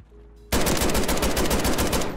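A shotgun modified into an assault rifle fires in a shooter video game: after a brief quiet lull, a sudden, loud, continuous burst of rapid shots hammers on without pause.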